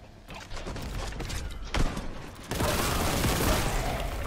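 Video game gunfire aimed at a red explosive barrel: a burst of shots that jumps louder around two and a half seconds in and then holds as dense, sustained firing with no talk over it.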